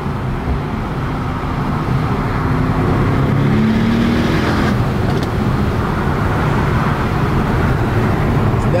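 Mercedes-AMG E63 S driving fast on a highway at night, a loud, steady engine and road roar that rises slightly and stays dense throughout, heard from inside the car.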